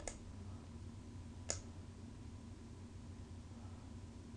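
Two sharp mouse clicks sound over a faint steady hiss, one at the very start and one a moment later, close and quiet.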